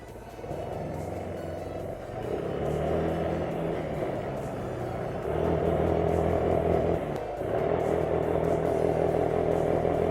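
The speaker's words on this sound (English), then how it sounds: "So we'll be driving this ATV right here." An ATV engine runs while being ridden, a steady low rumbling drone that swells in two stages as the throttle opens, heard close with no talking.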